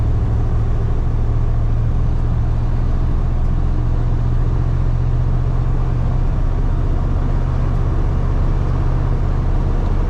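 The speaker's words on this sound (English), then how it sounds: "Truck goes straight down the road, doesn't pull." A 1976 Ford F-150 pickup truck is driving down a road. Its engine makes a steady, close mid-range hum with road rumble throughout, and no voices are heard.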